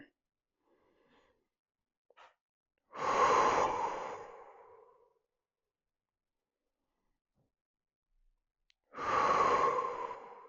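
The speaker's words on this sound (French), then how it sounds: "Pendant ce temps-là, je contrôle ma respiration." Slow controlled breaths during a glute stretch for golf-related back pain: two long, close breath sounds a few seconds apart, separated by near silence.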